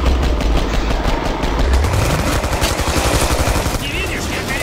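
Loud, dense gunfire in the video game Killing Floor, with rapid automatic bursts firing continuously and close, mixed with game effects throughout.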